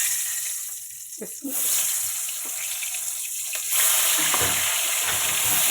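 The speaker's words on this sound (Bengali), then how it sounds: "এখন মাছটাকে লবণ হলুদ মাখায় ভেজে নেব" Fish coated in salt and turmeric fries in hot oil, a steady close sizzle running throughout with a few louder crackling bursts and light stirring clinks.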